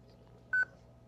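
A single short electronic tone from an amateur radio repeater kerchunk, a brief clean beep over a low steady hum, with no talking.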